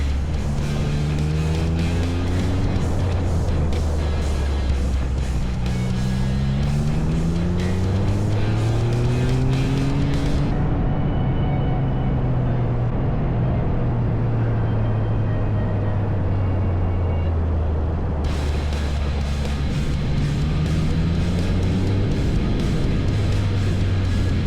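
A car driven hard on a winding road with its traction control kicking in: a loud, continuous engine note climbing and falling through repeated gear changes, with a brief dip in the high end partway through.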